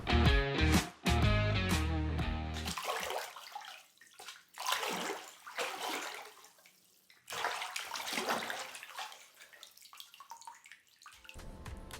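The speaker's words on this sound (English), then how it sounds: "We are getting water here in this tank" Water pours steadily into a reef aquarium tank being filled for the first time, a continuous rushing splash that varies in strength, with a few sharp knocks and clatters at the start.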